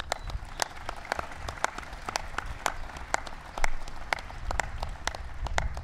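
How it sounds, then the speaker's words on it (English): An audience at a White House event honoring a NASCAR Sprint Cup champion claps continuously, with scattered sharp claps over a fuller wash of applause. "give Paul a big round of applause"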